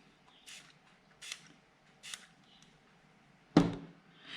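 A few short hissing spray bursts of Glauber salt solution misted onto watercolour and ink, spaced about a second apart and fairly quiet, ending in one louder, sharper burst near the close.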